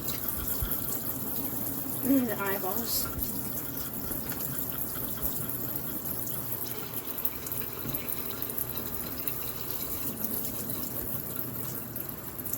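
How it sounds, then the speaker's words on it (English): Steady running tap water pours over freshly caught bass during rinsing, a continuous close splashing stream that lasts throughout, with brief voices over it. "Okay, rinse them off."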